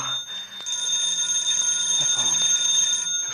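A telephone rings in an audio drama, a steady electronic trill with a bright tone that sounds continuously and fairly close for about three seconds, with no talking over it.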